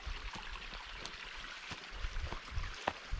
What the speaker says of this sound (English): You can hear the stream at least.